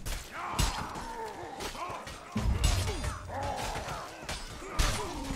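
Catapult shot landing in the medieval melee game Mordhau, a few heavy crashing thuds and smashing impacts amid loud battle clamor, with voices shouting in the background.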